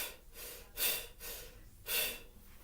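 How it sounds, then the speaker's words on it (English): A bugle teacher demonstrating very shallow breathing, with quick, tight breaths drawn in and pushed out, two sharper gasping inhales standing out among softer exhales, close and fairly quiet with no talking. "Very shallow breathing."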